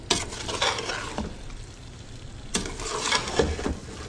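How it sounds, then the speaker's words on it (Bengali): Rice sizzles and scrapes in a pot as a spoon stirs it, with repeated clattering strokes over a steady frying hiss. "এখন চাল ভালো করে ভেজে নিব"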